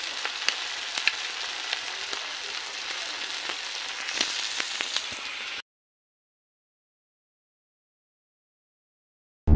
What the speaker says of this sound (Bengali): আর এদিকে আমি চিংড়ি মাছ ভাজা বসিয়েছি